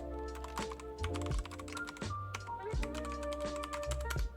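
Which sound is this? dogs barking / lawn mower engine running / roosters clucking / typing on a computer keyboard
typing on a computer keyboard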